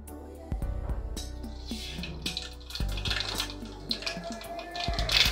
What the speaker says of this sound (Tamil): இப்போ வந்து நம்ம ஃபர்ஸ்ட் வந்து கடுகு போட்டுக்கிறோம்.